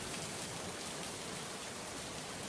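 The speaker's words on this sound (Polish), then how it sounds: "Deszcz pada tu niemal bez przerwy." Steady rain falls in the video game Gothic, an even, unbroken hiss of water over the whole stretch, with no voices or other sounds.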